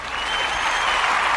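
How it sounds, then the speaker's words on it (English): Brief, dense applause from an audience welcoming a guest on a local show, steady and close with no voices on top. "We're going to give her a round of applause."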